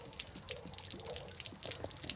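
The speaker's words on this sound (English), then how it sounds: "you see water now coming out down here" Water draining from the low point drain of an RV with a washer and dryer, a faint, steady trickle and patter, heard quietly and up close.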